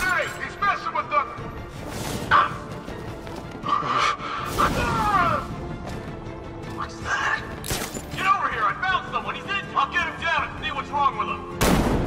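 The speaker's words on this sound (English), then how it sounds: "Some kind of grenade!" Grenade explosions in Batman: Arkham Knight, several heavy booming blasts rising out of a busy, loud game soundscape with a voice talking throughout.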